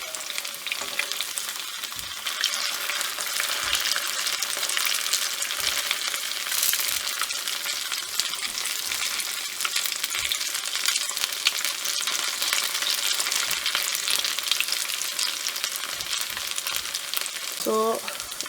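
Onion fritters made from leftover rice (ullivada) deep-frying in oil, a dense, steady bubbling sizzle that runs throughout with occasional soft knocks of a utensil.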